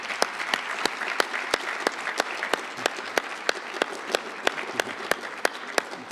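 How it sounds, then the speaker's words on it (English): An audience at a mathematics olympiad opening ceremony applauds in a steady, fairly even wash of clapping, with a few sharper individual claps standing out at a regular beat throughout. "Let's give ourselves a round of applause."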